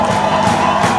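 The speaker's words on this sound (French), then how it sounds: "C'est dans la louange et des acclamations escortées de cris de joie que l'homme de Dieu a été accueilli" Jubilant crowd cheering, shouting and praising to welcome a pastor at a Christian centre in Kokrenou, a dense, loud, continuous roar of many voices with swelling bursts of cries.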